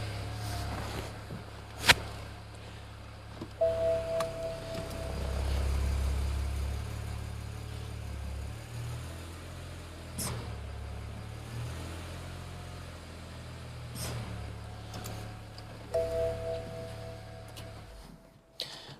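A BMW 335i N54 engine idles and turns over with a low, steady rumble, punctuated by a few clicks and knocks, with little or no talking.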